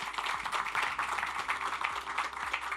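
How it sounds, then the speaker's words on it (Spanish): Audience applause after a speaker's introduction at a Fundación Coopeuch cooperative event, a steady dense patter of clapping at moderate level sustained throughout with no voices over it. "Un fuerte aplauso."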